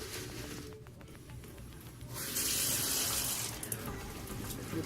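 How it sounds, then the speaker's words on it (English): A sink tap runs in a care setting, first a thin trickle, then turned up to a louder steady gush of water splashing into the basin, with no talk over it. "you want to make sure you get a paper towel to turn the water on because your gloves are dirty."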